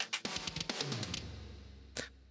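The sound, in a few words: drums through heavily distorted parallel crush bus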